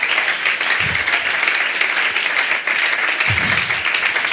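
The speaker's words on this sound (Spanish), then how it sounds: "¡Aplaudan!" A church congregation breaks into loud, sustained applause during an evangelical service, dense continuous clapping filling the room.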